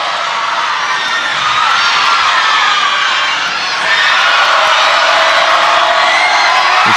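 Crowd at a netball semi-final, Malaysia against Brunei at the 2017 SEA Games, keeps up a steady roar of cheering and shouting that swells louder partway through and holds to the end.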